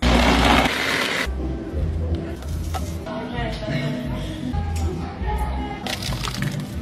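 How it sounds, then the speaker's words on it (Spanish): Blender whirs through a mango drink with ice, water, lime, sugar and salt, a loud grinding roar with rattling chunks that starts strong, dips and surges again in pulses, over background music. "Y licuamos."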